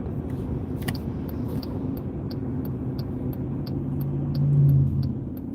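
A car driving along a road, with a steady low engine rumble and road noise throughout that swells slightly near the end, heard from inside the cabin.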